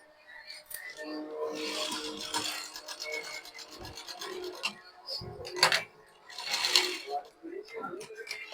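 A sewing machine runs in short bursts, stitching piping onto the back panel of a blouse, with a quick rattling hum close by and a voice talking over it.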